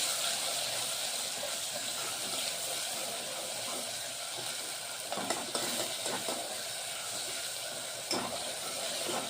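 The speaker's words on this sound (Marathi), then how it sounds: "त्याला थोडं होऊ द्यायचं तेलामध्ये टमाटरला" Tomato paste sizzles steadily in hot oil in a pan, a continuous bright frying hiss with a few soft stirring scrapes near the end and no talk.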